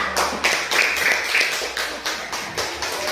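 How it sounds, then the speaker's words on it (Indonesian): A classroom of students claps together for group 1, a short burst of fairly close, rhythmic clapping with bursts that rise and fall across a few seconds. "Kalau sudah benar, tepuk tangan untuk kelompok 1."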